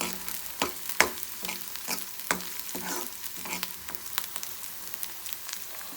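Curry leaves and onion frying crisp in a pan for Andhra-style palak pappu, a soft steady sizzle broken by sharp intermittent crackles and stirring scrapes.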